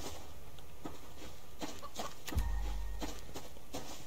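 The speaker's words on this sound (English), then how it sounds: "There's a chicken." A chicken clucks in the survival video game Subsistence: a few short, soft clucks spaced over several seconds, faint against a low steady background hum.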